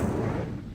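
The Incendio fire spell is cast in Hogwarts Legacy. A short, dense whoosh of flame roars up close and fades over under a second, with no speech.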